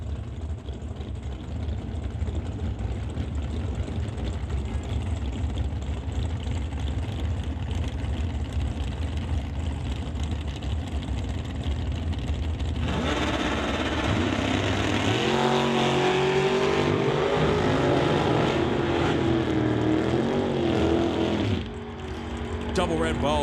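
A Camaro and a Ford Roadster race at a drag strip. Steady engine roar builds into a louder, brighter high-revving surge midway, then cuts briefly before resuming, with a faint announcer voice underneath.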